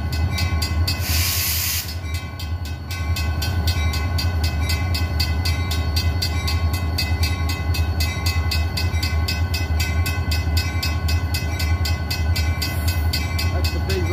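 Freight locomotive switching cars on a rail spur in Winslow, New Jersey, a loud continuous diesel engine drone with steady low rumble, short bursts of air hiss near the start and end, heard fairly close.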